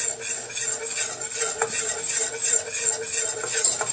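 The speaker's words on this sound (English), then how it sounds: "Just keep whisking." A whisk scrapes and stirs a butter and flour roux in a pan, a steady close scratchy rhythm with light metallic clicks against the pan.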